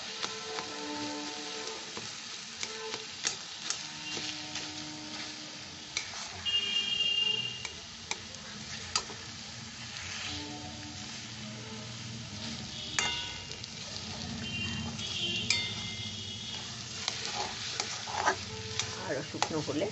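Spices and a mixed vegetable filling being stirred and fried dry in a pan for vegetable egg devil, with a continuous soft sizzle broken by repeated scraping and clinking strokes of a spatula, close and fairly quiet throughout.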